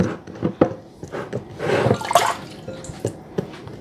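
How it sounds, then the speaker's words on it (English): Water runs and splashes as hands are wetted while shaping plantain fufu in a kitchen. The watery bursts are close and uneven, with drips and a fuller gush in the middle. "So you want to wet your hands so it don't stick."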